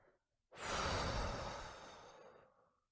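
A long exhale through the mouth during a sophrology relaxation exercise, one close, breathy rush of air lasting about two seconds and fading gradually, alone without talk.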